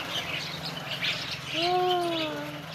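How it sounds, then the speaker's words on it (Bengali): A flock of common mynas chatter and squawk together close by, a dense mass of calls with a couple of clear whistled notes over a steady low hum. "এত শালিক পাখি দেখছো কখনো?"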